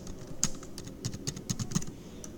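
Quick, irregular clicks of a computer keyboard as text is typed, a dozen or so keystrokes close to the microphone against a quiet background.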